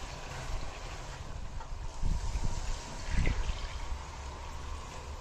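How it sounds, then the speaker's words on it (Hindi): Four cups of water are poured into a pot of arbi gosht, a taro and meat curry, producing a steady splashing trickle with a couple of louder sloshes partway through. No one speaks. "अब इसमें पानी डाल देना है।"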